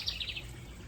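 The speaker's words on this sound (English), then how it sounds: "some little songbird has taken up residence in this barn birdhouse, and it is just a chatty Cathy" Small songbird nesting in a barn birdhouse chirps a quick burst of high, bright notes at the start, fairly close, then stops against quiet outdoor background.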